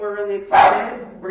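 A single sharp dog bark cuts in over a person talking, close and loud.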